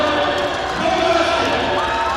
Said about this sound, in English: Crowd here now at the Meridian Center starting to get a little bit louder